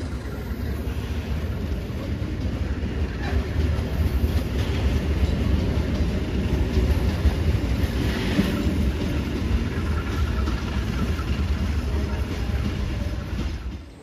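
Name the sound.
Gajayana train at station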